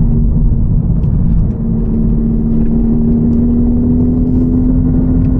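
Honda Civic Type R FL5 with track-focused coilovers cruising gently on a bumpy canyon road in +R mode, its engine holding a steady mid-pitched drone with rising whine and road rumble, loud and close from inside the cabin.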